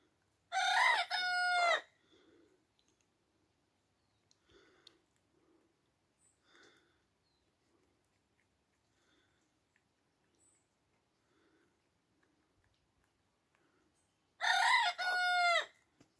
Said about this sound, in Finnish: se kiekkuu ensimmäistä kertaa.